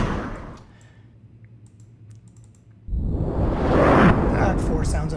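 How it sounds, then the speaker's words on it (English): A power whoosh sound effect from the Motion Pulse library swells abruptly into a loud, broad rushing surge. Faint clicks and typing come before it. "there's something called Power Whooshes"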